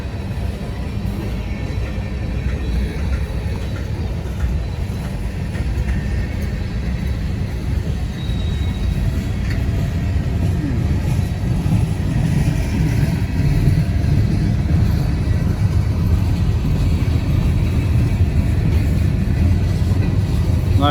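A mixed freight train rolls slowly along the tracks on a hot, muggy day, giving a steady, loud rumble of wheels and cars that continues unbroken throughout.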